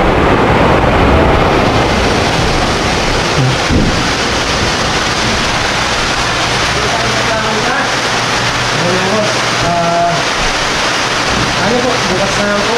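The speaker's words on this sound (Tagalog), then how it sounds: "Hindi na tumigil yung ulan." Heavy rain pours steadily with a low rumble of thunder beneath it, and voices can be heard faintly in the background.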